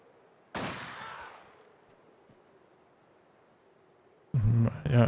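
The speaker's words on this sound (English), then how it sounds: "A sniper going to take a shot here." A single sharp sniper rifle crack in Company of Heroes 2 rings out and decays over about a second against quiet ambient battlefield noise, followed by a brief burst of other sound at the end.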